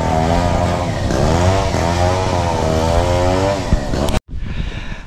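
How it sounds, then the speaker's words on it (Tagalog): A motorcycle engine idles and revs close by near Patar Beach in Bolinao, Pangasinan, a loud steady buzzing drone with rising and falling pitch before it cuts off abruptly near the end. "Ayan yung ating motor."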